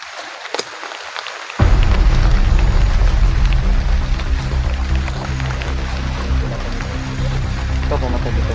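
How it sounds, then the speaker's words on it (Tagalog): Heavy rain starts abruptly after a quiet moment and keeps up a loud, steady hiss of pouring water on surfaces. Faint voices can be heard under the downpour. "Ang lakas ng ulan."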